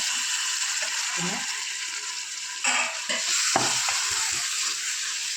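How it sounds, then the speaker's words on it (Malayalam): Masala paste frying in a pan in a home kitchen, stirred with steady scraping and a constant close sizzle, with a brief louder scrape midway and a few soft knocks. "പിന്നെ നന്നായിട്ട് നമുക്ക് ഇളക്കി കൊടുക്കാം"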